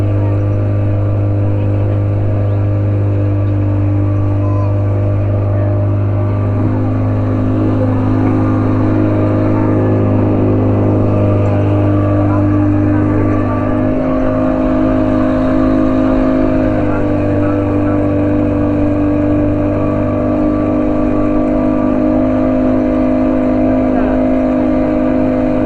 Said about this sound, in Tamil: அதுவும் 40 ஹவர்ஸ் இன்ஜின் இதில் தான் ரன் பண்ணிட்டு இருக்குது